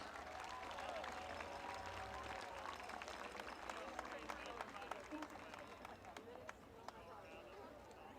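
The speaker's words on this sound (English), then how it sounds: "Let's give a round of applause for our Charleston Panthers." A crowd at a high school game at Walker Valley High School applauds the Charleston Panthers, a faint, distant and steady wash of clapping and cheering that carries on throughout.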